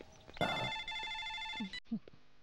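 A telephone rings inside a Hindi-dubbed Tamil action movie scene, giving a bright electronic ring with a steady tone that runs for about a second and a half. It is cut off abruptly, and short voiced sounds follow.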